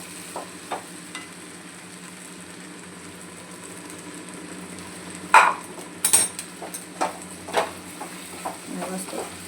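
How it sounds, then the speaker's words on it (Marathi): Okra frying in a pan with crushed peanuts, stirred with a soft background sizzle and several sharp scraping clicks from a utensil at uneven intervals, with faint kitchen noises. "आता चांगल्याला मिक्स करूया."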